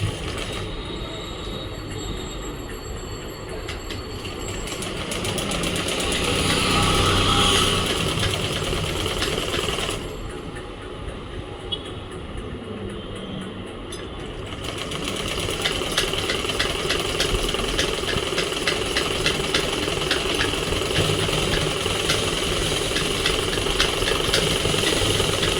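Sewing machine stitching a small baby frock, a fast, steady mechanical chatter running nearly continuously at close range, with a short lighter stretch partway through.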